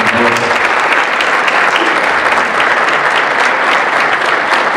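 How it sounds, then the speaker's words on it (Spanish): A lecture audience applauds in a continuous loud burst of clapping that carries steadily from start to finish, with a trace of voices near the beginning. "un aplauso, por favor."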